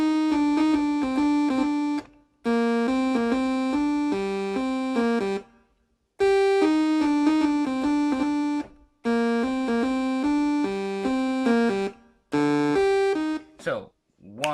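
Keyboard saw-wave synth plays the GTA San Andreas theme, bright buzzy sustained notes in repeated phrases separated by short gaps, ending in a quick pitch-bend sweep.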